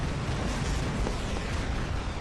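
Aphid missile fire slamming into a robot in the War Robots video game, a dense, continuous roar of explosions with no clear gaps, loud and broadband for the whole stretch.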